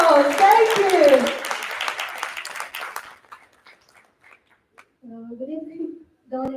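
Guests at a wedding reception clap for about three seconds under a speaking voice, then the room goes quiet before someone speaks again.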